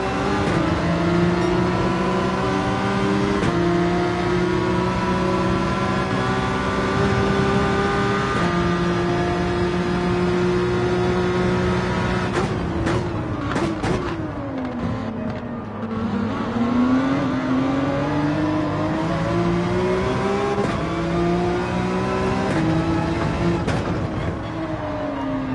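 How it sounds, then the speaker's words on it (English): A Lamborghini race car in Gran Turismo 7 roars steadily at high revs, pitch stepping up through gears, dipping and climbing again, loud and close throughout with no talking. "Lamborghini sounding awfully good"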